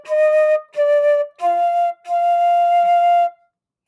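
Solo flute plays a four-note phrase with each note tongued separately rather than slurred, the last note held longest, close and clear with no talking.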